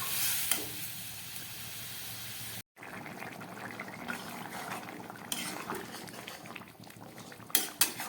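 Jackfruit curry bubbles steadily in a pot after warm water is added, a continuous close, soft boiling hiss with a brief break and a few clinks near the end.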